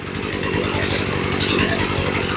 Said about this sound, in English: Now she sounds pretty good, so the chain is spinning freely.